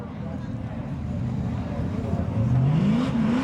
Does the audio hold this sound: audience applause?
no